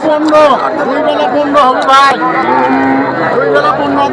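Several dairy cows moo loudly and repeatedly close by, their long lowing calls overlapping amid a busy crowd of chattering voices at a cattle market.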